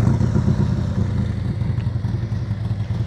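Motorcycle engine at low speed during slow-speed riding practice, a rough, throbbing mid-pitched rumble that swells slightly as throttle is added, steady and fairly close.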